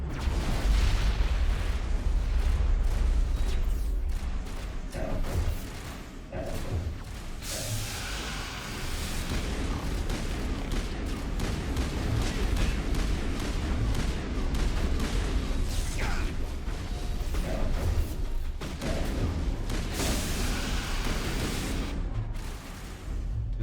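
Grenade blast and gunfire in the Mass Effect shooter game, a dense, loud wash of explosions and bursts of shots rolling on continuously, with booming low rumble throughout.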